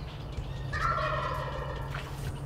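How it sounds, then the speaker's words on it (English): A wild turkey gobbles once at a distance, a rolling burst that carries over a steady low rumble of wind or background noise during a late-season hunt. "I hear a gobble off to the north"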